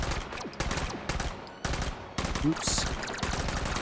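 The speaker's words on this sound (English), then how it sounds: "Really nice submachine gun here. Just get a good aim on this." Rapid submachine gun bursts in the VR shooter Hot Dogs, Horseshoes & Hand Grenades, several sharp volleys broken by brief pauses, loud and close, with someone speaking briefly over the firing.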